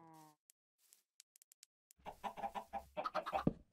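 Minecraft chickens cluck in the video game, a run of quick close clucks after some soft clicks and a brief tone, at moderate level with no talk over them.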